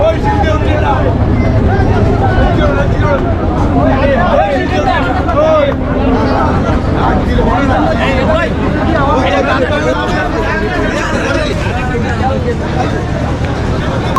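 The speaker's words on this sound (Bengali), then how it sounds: "এই হলো আমাদের লঞ্চ এটা কিন্তু মোটামুটি ছোট লঞ্চ এবং দুইতলা লঞ্চ" A small two-deck passenger river launch waiting at a terminal before departure, a steady loud drone of engine and crowd noise under continuous chatter from many people.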